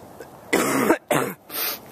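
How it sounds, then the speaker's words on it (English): Three harsh, rasping coughs in quick succession, close and fairly loud, with short gaps between them. "I have a cough."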